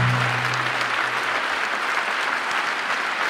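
Sustained applause from a large audience at the Philippine State of the Nation Address, a dense, steady wash of clapping that fills the whole stretch with no voices on top.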